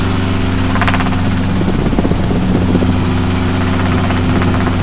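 Training helicopter during an autorotation lesson, its engine and rotor producing a loud, steady, close drone with rhythmic blade thumping that dominates throughout.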